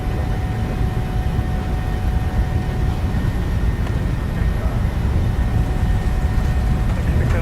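Boeing 737-800 jet engines at takeoff thrust in Microsoft Flight Simulator 2020, a loud, steady broadband roar with a faint whine running through it, holding constant throughout with no talking.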